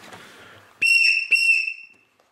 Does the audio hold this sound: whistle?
yes